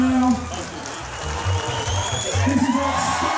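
A festival crowd at a chilli pepper eating contest at GrillStock cheers, whoops and claps in a loud continuous swell, with a voice calling out over the noise.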